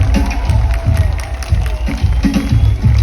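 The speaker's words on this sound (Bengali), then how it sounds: "রেমোর জন্য জোরে হাততালি।" Audience at a live concert by FaKira Band cheers and claps loudly for the band's guitarist, a steady crowd roar with whoops throughout, close and full.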